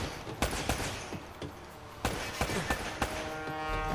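Gunfire in the Uncharted video game: a run of sharp shots cracks out in irregular bursts, some single and some clustered, mid-distance over a busy backdrop of game sound, with no talking.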